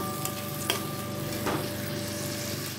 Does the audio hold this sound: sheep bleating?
no